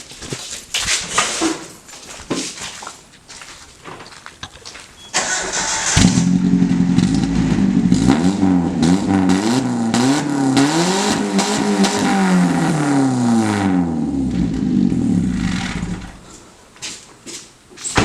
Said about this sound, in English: You got it straight pipe with no exhaust with a 4-inch tip on it.